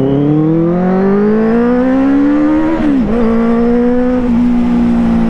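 A 600cc superbike engine runs close by, a steady loud drone climbing in pitch as it revs, dipping briefly, then holding a high, even note.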